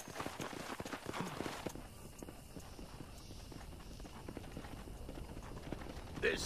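Horse hooves clip-clop in the Red Dead Redemption game, a steady rhythmic patter of hoofbeats that starts brisk and settles into a quieter walking pace.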